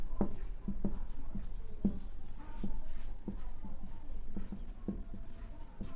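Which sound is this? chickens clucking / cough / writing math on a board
writing math on a board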